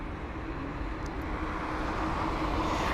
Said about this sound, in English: There it is, the Air India 777.